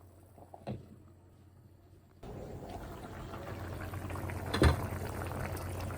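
Hilsa fish curry bubbles and simmers in a pot, a soft steady boiling that gets louder partway through, with a couple of sharp clatters from a utensil against the pot.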